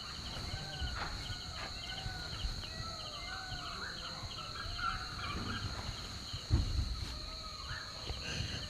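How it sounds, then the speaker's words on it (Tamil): Peacocks and jungle fowl call in a misty Kerala forest at dawn near Parambikulam, their calls faint and distant, repeating over a constant drone of insects and crickets. "மயிலோட சத்தம், காட்டுக்கோழியோட சத்தம் ஹெவியாக இருக்குங்க"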